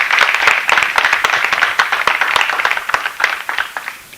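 Applause and clapping break out at a music label's signing and presentation event for a singer, a dense, lively patter of many hands that holds steady for several seconds.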